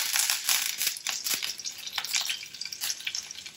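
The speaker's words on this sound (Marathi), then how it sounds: "आता तेल छान गरम झालं आहे, त्याच्यामध्ये कढीपत्ता घालून घ्यायचा" Curry leaves hit hot oil already crackling with mustard seeds and cumin, giving a loud, dense, continuous sizzle with sharp spattering pops throughout, close up with no voices.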